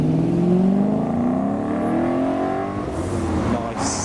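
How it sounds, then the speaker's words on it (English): A Mazda MX-5 pulls in close by at a car meet, its engine note rising and falling smoothly, with crowd noise behind it. "MX-5 pulling in too."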